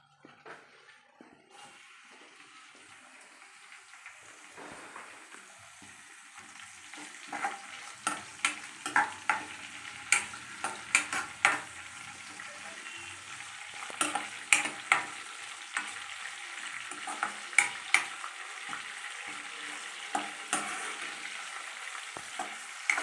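Green chillies fry with cabbage in a pan, a quiet steady sizzle that builds, with a growing series of sharp spatters and crackles through the second half.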